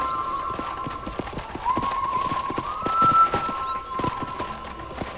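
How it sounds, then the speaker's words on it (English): Horse hoofbeats clip-clop in quick, steady rhythm on a ranch in the video game Red Dead Redemption, close and clear, with a brief whinny and a faint whistled tone over the trotting. "let's see if you can still ride a horse"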